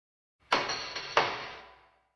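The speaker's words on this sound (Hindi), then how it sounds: "दरवाजा लकड़ी का था। उसे धक्का दिया तो वो एक भारी सी आवाज के साथ चरमराया" A heavy wooden door pushed open, giving two sharp knocking onsets followed by a broad grinding creak that fades out over about a second and a half, close and alone.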